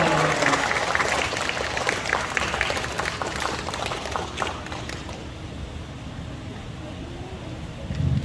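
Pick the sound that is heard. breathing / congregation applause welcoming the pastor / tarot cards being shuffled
congregation applause welcoming the pastor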